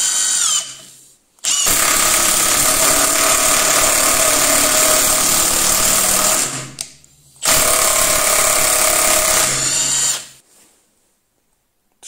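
A Milwaukee M18 FIW2F12 cordless impact wrench in its second mode drives a 4x90 screw: a loud, continuous buzzing hammer for about five seconds, a short pause, then another shorter burst.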